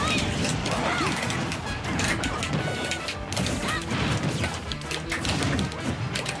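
Smash attack hits in Super Smash Bros. 4, a dense run of sharp cracking impacts and thuds, loud and close, repeating irregularly through the fight with a voice talking over it.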